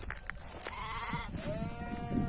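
Several sheep bleat in close succession, wavering calls overlapping one another against a busy farmyard background.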